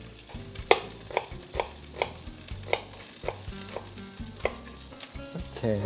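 Garlic and onion stir-frying in a pan for pumpkin pasta, with a steady sizzle broken by regular scraping taps of a utensil every half second or so, close and moderately loud, no talking.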